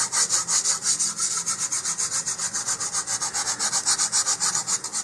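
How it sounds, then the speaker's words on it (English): A sanding block rubs back and forth over a laser-cut model rocket fin in quick, even strokes, a close, scratchy rhythmic rasp with no talk. "you can either rotate the fin or rotate your sanding block"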